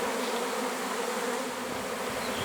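A swarm of honey bees in the grip of swarming fever, buzzing as a dense, steady, loud drone close by, with no voices.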